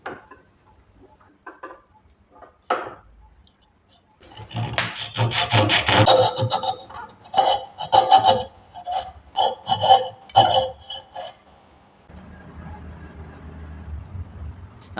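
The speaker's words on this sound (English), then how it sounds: "I pre-drill holes so that I know where to stop when I cut through" A hand saw cuts through wood to shape the tines of a handmade wooden fork, with rapid rasping strokes in bursts after quiet handling taps, close and loud, then a softer scraping at the end.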